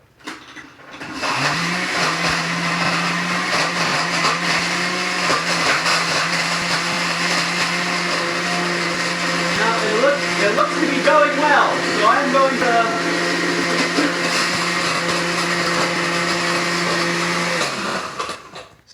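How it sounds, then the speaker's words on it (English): A kitchen blender crushing ice for a spring snack runs loudly and steadily for most of the clip, a constant motor whine with grinding churn rising in the middle, while a person talks over it. "stop the blender before I add any more ice."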